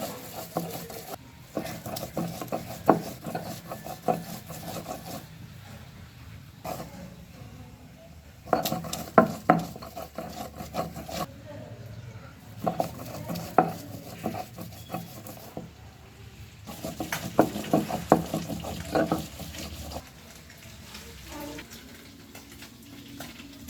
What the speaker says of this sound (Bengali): এবার বেছে রাখা মাছগুলো সুন্দরভাবে বেটে নিব আস্তে আস্তে।